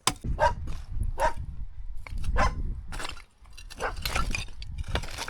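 A dog barks repeatedly in short, sharp bursts at irregular intervals, moderately quiet, with no one speaking.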